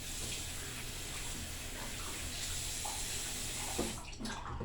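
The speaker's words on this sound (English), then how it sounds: "I'm going to rinse my hands off again." Hands rinsed under a running tap, a steady close rush of water pouring into a sink that continues throughout, briefly changing as the hands move through the stream near the end.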